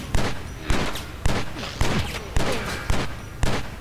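Machine gun fire in the video game Stranglehold: seven sharp, loud bursts of automatic fire in a fairly regular rhythm, each with a booming crack and a short rattling tail.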